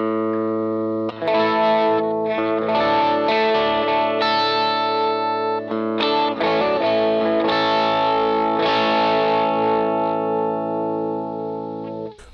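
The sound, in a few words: chimey guitar effect from Line 6 Helix firmware 2.60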